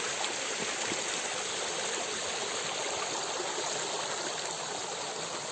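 A stream rushes over slippery rocks outdoors, producing a constant, full, hissing flow of water that stays steady and fairly close, with no talking.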